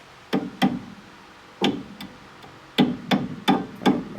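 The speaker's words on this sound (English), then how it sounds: "Tap that through. Hammer." Sharp metallic hammer taps drive a bolt through while fitting a disc brake on a Chevelle, landing in small clusters, a couple of quick strikes, then a pause before a few more, close by with no talking.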